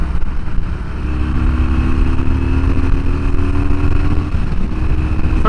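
A 2009 Harley-Davidson Sportster 1200 Custom engine runs loud and close at high RPM, a steady rumbling drone with rising pitch as it revs, heard alone.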